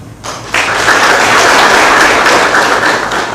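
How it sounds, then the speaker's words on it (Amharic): Applause from a church gathering of Sunday school members and young Orthodox church servants, starting after a short quiet moment and then holding as a steady, dense wash of many hands clapping for about three seconds. "እስኪ አጨብጭቡ"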